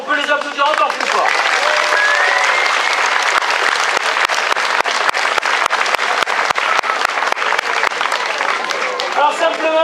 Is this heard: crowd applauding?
yes